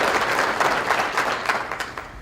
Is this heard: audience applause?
yes